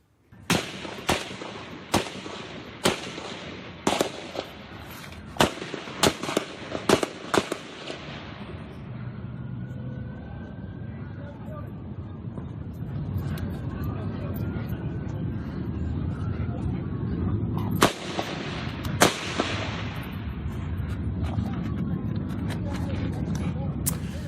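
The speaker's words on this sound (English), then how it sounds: "A dramatic video was captured by an eyewitness just as the shooting unfolded." Gunfire erupts during a shooting, a rapid series of sharp cracking shots in quick bursts, then a pause under a steady background roll, followed by a few more shots, with voices talking faintly throughout.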